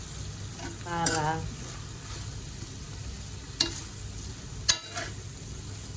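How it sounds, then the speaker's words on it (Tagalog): Soy sauce poured into a hot pan of frying shrimp with tomato, giving a steady sizzle with a louder burst of crackling near the start and two sharp clinks later on. A voice is briefly heard. "Lagyan na lang natin ng toyo"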